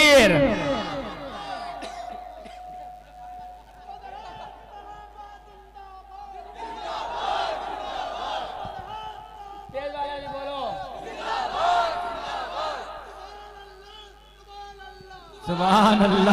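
A mushaira crowd at a Naat gathering in Tedwa Noorpur roars back in unison to a Naara-e-Takbeer chant, several loud swelling waves of massed voices with echoing hall reverb and brief quieter gaps between.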